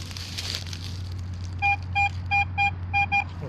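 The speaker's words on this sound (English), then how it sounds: "Nice high tone on the probe." Metal detector probe emitting a soft high pinpointing tone while sniping for WW2 relics, a run of six short evenly spaced beeps over steady background hum.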